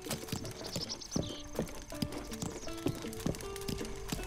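Horse hooves clip-clopping in Breath of the Wild, with a pink-maned horse trotting in an irregular rhythm of clear hoof strikes, joined by a brief whinny, over soft game ambience.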